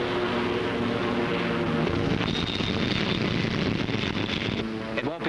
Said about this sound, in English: Stand by to take aircraft aboard.